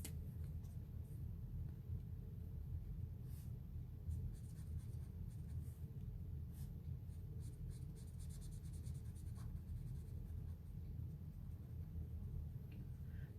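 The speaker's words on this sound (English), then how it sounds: "I can take the color directly from the pencil and add it to the card." A watercolor pencil is pressed hard against card while coloring, giving a continuous close scratchy rubbing with faint scattered ticks throughout.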